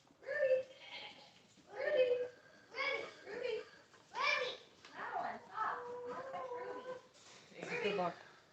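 Goats, pregnant does being caught for checks, bleat repeatedly in short, wavering cries, one after another, with children's voices mixed in close by.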